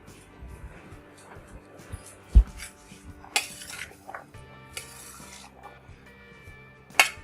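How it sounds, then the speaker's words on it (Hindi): Large spoon mixing fruit chaat in a bowl, giving soft scattered clinks and scrapes with a few sharper knocks of metal against the dish, fairly quiet and close, no talking. "अब इसको मैं चम्मच से थोड़ा सा मिक्स कर लेती हूँ, सारे फ्रूट को बड़े चम्मच से।"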